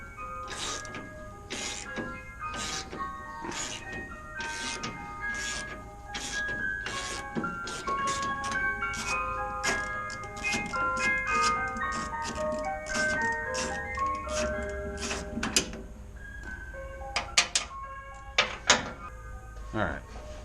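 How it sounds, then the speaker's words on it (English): An ice cream truck's jingle plays as a tinkling run of bright, evenly spaced notes that continues throughout, mixed with nearby clicks and clatter from taking parts off a 1938 vehicle's firewall, with occasional talk. "Ice cream truck, seriously?"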